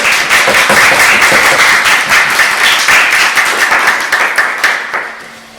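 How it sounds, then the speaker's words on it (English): Audience at a book launch gives a loud round of applause, individual claps clearly audible in a brisk, crowded rhythm that thins and dies away near the end. "let's give them a round of applause"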